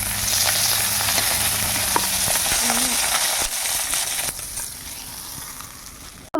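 Fish sizzle and spit steadily in a hot pan of oil over a wood-fired stove, a dense close crackle that thins and softens toward the end, with faint clatter.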